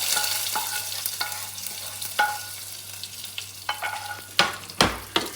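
Something poured into Kerala-style beetroot pachadi for an Onam sadya: a close fizzing sizzle with a scatter of sharp spoon and pan clicks that grow louder toward the end, with no speech.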